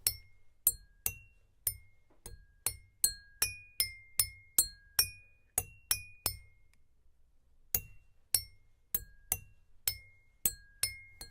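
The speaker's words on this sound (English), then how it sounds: "when you tap a glass using your beater, vibrations travel through it to create sound." Water-filled drinking glasses struck with a beater ring out a melody of bright, clear pitched tones, one note after another in a steady rhythm, close and alone, with a short pause partway through before the tune resumes.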